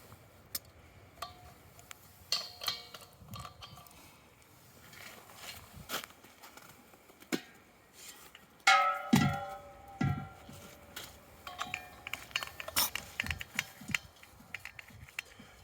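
Empty propane tank being swapped for a full one on an off-grid propane fireplace setup, a quiet run of metallic clanks, ticks and handling knocks, with a louder thunk midway.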